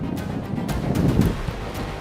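Strong wind roars across the microphone at Juhu beach in Mumbai during heavy rain, with high waves surging and washing in a steady, loud wash of noise and gusty bursts, no voices.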